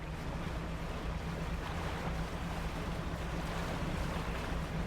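Open ocean waves and wind in the fishing game Dredge, a steady broadband wash of surf with a low, constant boat hum underneath, even and unbroken throughout with no talk.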